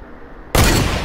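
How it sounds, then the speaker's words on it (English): A heavy sniper rifle fires in Fortnite: after half a second of quiet, one loud, close, booming shot hits hard and its echo trails off slowly. There is no talking. "Oh, I think he has a heavy sniper too."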